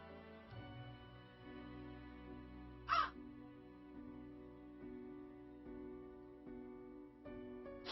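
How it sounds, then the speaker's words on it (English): One brief crow caw from the video game Death and Taxes, heard mid-clip over quiet sustained background music with soft ticking, fairly faint overall. "You're supposed to sound like a crow."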